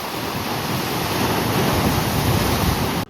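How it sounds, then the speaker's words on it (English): Ocean waves crash on a windy day in Madeira, a loud, continuous surging roar with wind buffeting the microphone, cutting off abruptly at the end. "Can you hear the sound of the waves?"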